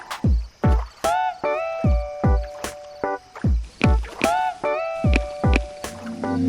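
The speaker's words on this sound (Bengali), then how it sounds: "ওই তো একটা নৌকা আসছে" A cartoon rowboat drawing closer, heard as a steady run of rhythmic oar-stroke thumps and splashy knocks layered with bright, tonal, music-like effects, loud and even, with no voices.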